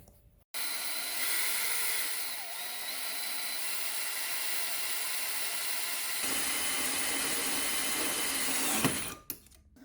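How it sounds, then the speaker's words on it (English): A power drill bores holes for mounting Tusk nerf bars on a Honda 250EX ATV, running as one loud, continuous high whine for about nine seconds with no talking, then cutting off abruptly. "got our holes drilled out"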